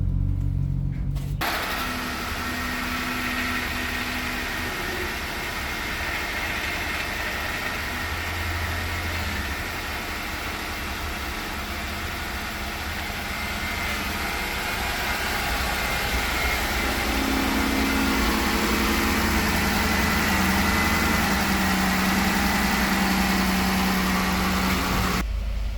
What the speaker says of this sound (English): We're gonna start up the engine